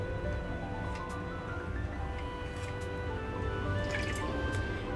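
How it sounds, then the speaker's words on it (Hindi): Cooking oil poured into a pot of beef haleem with lentils and meat gives a soft, steady liquid trickle with a few drips, faint and continuous under a low background hum. "चले तो 2 कप हम इसमें डालते हैं ऑयल।"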